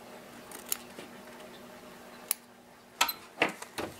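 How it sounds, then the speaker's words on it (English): Curved embroidery scissors snip close to machine-appliqué stitches on a towel, giving sparse, quiet clicks followed by a quick cluster of sharper cuts near the end, with no talking over them. "I'm going to just trim very close to the stitches. I'm using a curved scissor."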